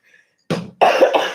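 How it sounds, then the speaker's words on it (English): A woman coughs close to the microphone, two to three harsh bursts in quick succession after a brief near-silent pause at the start. "I'm coughing."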